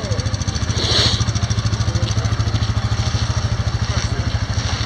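Quad bike engine idling steadily with a regular low-pitched pulsing throb, heard close and continuous throughout, with a little background noise on top.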